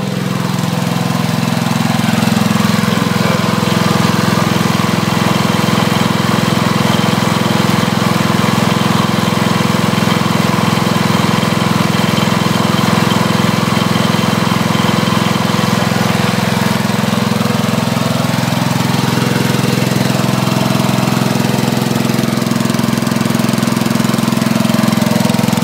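A Wisconsin engine drives a Winco generator set, running loud and steady nearby with a constant low drone and a knocking, lawn-mower-like chug that shifts pitch slightly midway.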